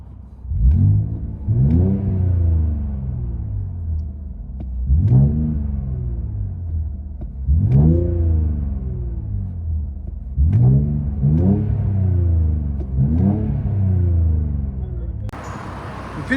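Infiniti Q60 Sport with a 3.0L twin-turbo V6 and a full 3-inch exhaust system, heard from inside the cabin: five or six deep rising revs, each building and falling away, loud and close with no talk.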